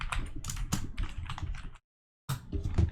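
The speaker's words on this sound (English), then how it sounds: "how I was typing, y'all realize why I'm typing so slow" Rapid keyboard typing comes up close and steady for under two seconds, breaks off into a short silence, then picks up again with busy clattering keystrokes.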